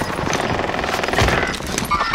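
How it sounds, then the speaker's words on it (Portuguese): Rapid bursts of automatic gunfire from the video game Warzone, dense and continuous, crackling fairly loudly with a few scattered shots standing out toward the end. "Ah, um tiro."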